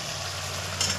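Spice paste with fenugreek leaves being fried and stirred in a pan for a homemade fish roe dish, a steady close sizzle with light scraping and a brief brighter crackle near the end, no voices.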